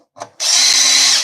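A cordless drill driver starts with a brief click and then runs steadily at a high, loud whine close by for about a second.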